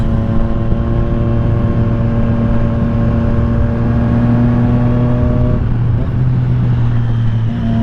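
A 2020 Triumph Street Triple RS motorcycle engine pulls steadily at close range, its harmonic drone dropping sharply in pitch with an auto-blip shift, then settling into a lower, steady note.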